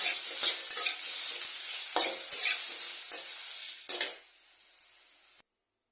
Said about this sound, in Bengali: গ্যাসের আঁচটা একটু বাড়িয়ে দিয়ে আমি বেগুনটাকে হালকা ফ্রাই করে নিচ্ছি